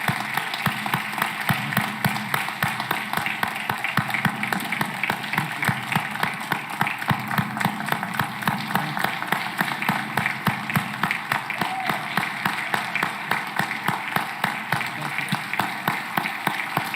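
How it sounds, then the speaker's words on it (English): Applause at a school board of education meeting honoring a retiring staff member, a long steady patter of many hands clapping at a moderate distance, even and unbroken throughout. "So one more round of applause."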